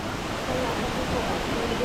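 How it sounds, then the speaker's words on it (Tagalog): A steady, hissing roar of water cascading down Mantayupan Falls in Cebu, Philippines, heard briefly and evenly without breaks. "Buong-buo yung tubig na buwabagsak."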